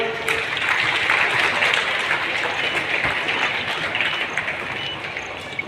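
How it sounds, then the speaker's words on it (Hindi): Loud, sustained applause from a large crowd at the outdoor inauguration of a 75-foot Sadashiv statue in Sagar, a dense, even wash of clapping lasting several seconds. "जोरदार तालियों।"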